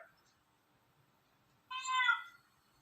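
A pet cat indoors lets out a single loud, bright meow of under a second, after a near-silent room.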